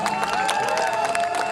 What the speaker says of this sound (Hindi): थोड़ी तालियां हो जाए मेरे लिए यार।